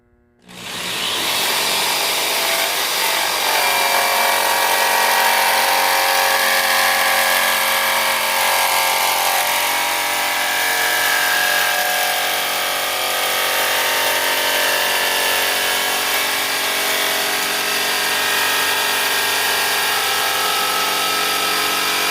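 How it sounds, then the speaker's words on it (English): Jigsaw cutting through an acrylic sheet, a loud continuous buzzing saw sound that starts abruptly and holds steady for over twenty seconds, close by. "My dad is about to cut the acrylic with the jigsaw."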